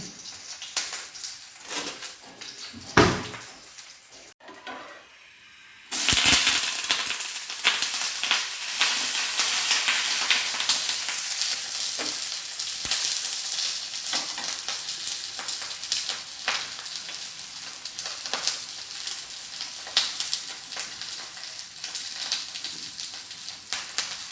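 Fish wrapped in banana leaf fries in a pan, a dense crackling sizzle that jumps in loudly after a short quieter stretch with a few clatters, then holds steady and close for the rest of the clip.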